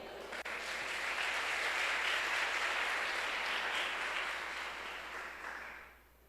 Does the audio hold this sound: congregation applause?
yes